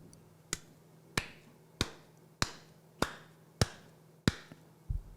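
Slow, sharp claps from Freeland and others in unison during a speech, evenly spaced at about one per second, seven or eight crisp hits over a quiet background.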